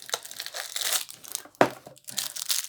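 Plastic packaging holding model skeleton hands being ripped open, with crinkling and crackling throughout and one sharp tearing burst midway, close up, with no talk.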